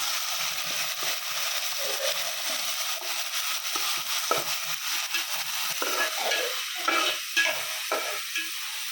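Ginger paste fries in a pan while being stirred, a continuous close sizzle with scraping and crackling throughout, no talking.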